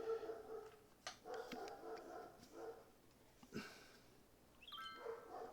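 Dogs bark indoors, several sharp barks and yips in irregular bursts at moderate distance, faint and spaced out against a quiet background.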